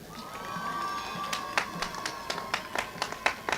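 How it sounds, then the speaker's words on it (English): A university graduation ceremony audience, including students of a science and technology faculty, claps for a medal recipient in a hall: scattered, moderately distant applause with sharp individual claps growing denser, over steady crowd murmur. "the students from the Faculty of Applied Science and Technology would be the loudest to applaud Mr. Baker"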